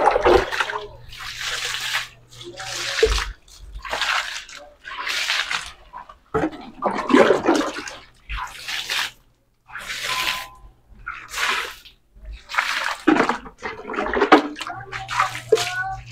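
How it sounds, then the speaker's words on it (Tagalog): Water is poured onto a concrete slab-on-grade mix for floor casting in repeated splashing bursts separated by short pauses, loud and close at a construction site. "bubuhusan natin ng tubig doon mga bro, babasahin para yung halo natin is kapit na kapit"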